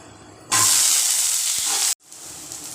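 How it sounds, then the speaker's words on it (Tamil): Small shallots and ginger dropped into hot oil in a pan, a loud sudden sizzle that holds strong for about a second and a half, then cuts off sharply to a quieter background. "பொன்னிறமாக வர வரைக்கும் வதக்கி எடுத்துக்கலாம் இஞ்சி ஒரு நாலு தொண்டு சின்ன சின்னதாக சின்ன வெங்காயம் ஒரு கைப்பிடி அளவு போட்டுக்கலாம்"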